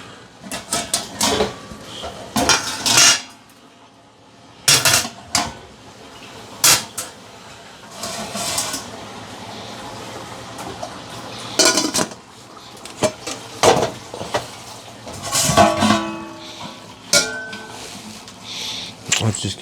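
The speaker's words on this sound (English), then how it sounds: "Can you rinse the lid?" Dishes and a pot lid clatter and clink in a kitchen sink while rinsing, in scattered sharp knocks and scrapes over running water, with people talking intermittently.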